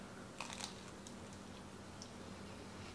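Crunchy homemade cheddar and chive no-knead bread is bitten into, giving a few crisp crackling crunches early on, then quiet chewing under faint room noise.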